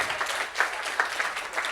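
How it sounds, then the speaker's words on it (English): A short burst of audience applause at a business conference, many hands clapping densely at a moderate level. "give yourselves a huge round of applause"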